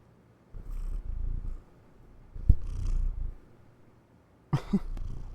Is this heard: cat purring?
yes